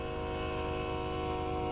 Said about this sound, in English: This train was very long,